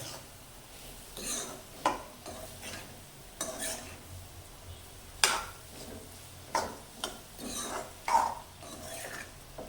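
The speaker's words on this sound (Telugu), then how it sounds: "2 నిమిషాలు మంచిగా ఇది మగ్గాలి, ఫ్రై కావాలి, ఆయిల్లోనే ఫ్రై కావాలి." Bitter gourd fries in oil in a pan as a spoon stirs it, giving a low steady sizzle broken by scattered scrapes and clinks of the utensil against the pan.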